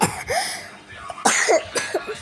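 A child with a mild cold coughs several times, short harsh bursts close by with brief pauses between them.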